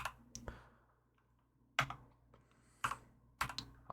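Computer keyboard typing up close, a few sharp isolated key clicks and short clusters spaced by quiet gaps, heard alone without speech.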